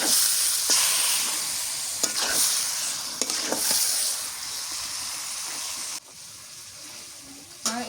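Fatty meat sizzles and fries in oil over a village clay stove, with steady hiss and repeated scraping stir strokes throughout, the frying dropping slightly quieter toward the end.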